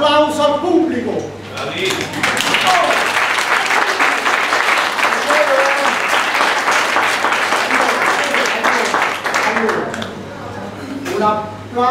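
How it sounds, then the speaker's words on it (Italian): A theatre audience bursts into loud, sustained applause after an Italian stage show ends, dense clapping filling the room for several seconds before thinning out, with brief voices at the start and end. "Un applauso al pubblico."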